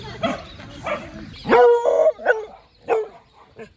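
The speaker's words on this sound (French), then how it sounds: "le chien il voulait pas que je le touche, il m'aboyait dessus" A dog on a walk in Marseille barks repeatedly, with sharp, loud barks in a short uneven burst, then a couple more spaced out.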